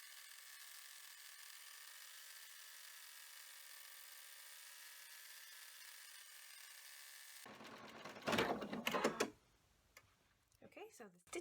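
An embroidery machine stitching a fish-design coaster in the hoop hums steadily at an even level for several seconds, then stops, followed by a few louder handling sounds and a voice talking.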